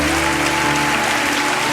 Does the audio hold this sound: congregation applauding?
yes